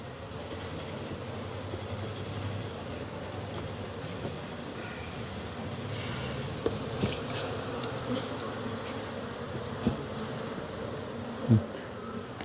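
Honeybees swarm around opened beehive frames in a dense, steady buzz that fills the whole stretch, close and loud, with a few light knocks and clicks from handling the frames.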